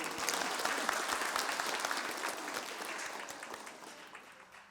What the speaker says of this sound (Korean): 우리 어린이 박수 한번 하겠습니다.